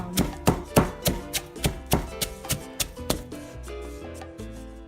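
Peppers are pounded for egg roll filling with about a dozen loud, close thuds in a steady rhythm. The blows weaken and end, then a softer sustained tone carries on.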